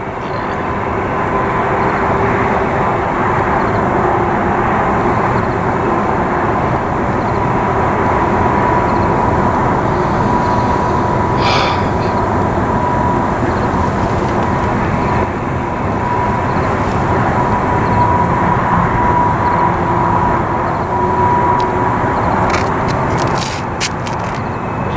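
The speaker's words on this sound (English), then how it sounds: "Pretty good size grain train for 2 engines to be hauling up the Palmdale." A Union Pacific grain train hauled by two locomotives rolls past on the line toward Palmdale, a steady, loud rumble of engines and wagons that holds for the whole stretch, with faint squeals near the end.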